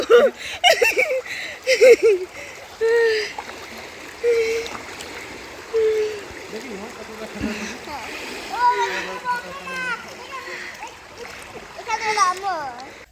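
Splashing water from people swimming in a swimming pool in Santiniketan comes in irregular bursts, mixed with excited voices, child chatter and laughter at moderate distance.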